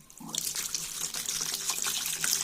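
Running tap water splashes over a paper bowl being rinsed in a sink, starting with a gush and continuing as a steady hissing stream with small splashes.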